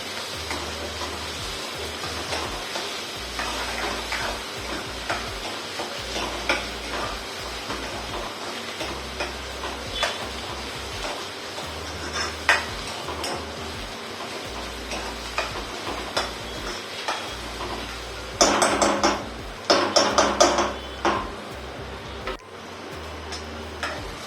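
Onion and tomato sautéing in a pan give a faint, steady sizzle with repeated light ticks and scrapes of a spoon, then a louder burst of stirring near the end.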